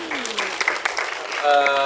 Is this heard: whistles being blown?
no